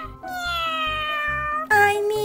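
A cartoon cat in the Avatar World video game gives two loud, drawn-out meows, one long and one shorter, over a light bouncy game music bed.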